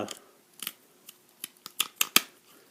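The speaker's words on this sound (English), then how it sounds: "tin snips" Tin snips making a series of short, crisp cuts in a trim piece, about eight sharp snips in quick irregular succession, close up with no talking.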